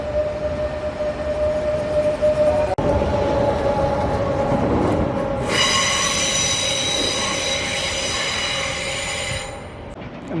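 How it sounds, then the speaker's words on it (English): Renfe suburban train pulling out of Port Bou station, a loud, steady rumble with sustained high wheel squeal rising midway and fading near the end. "And there goes the train to Cerbere"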